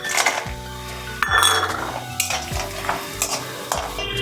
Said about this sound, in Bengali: আমি আগে বড়িগুলো ভেজে নেব লাল করে।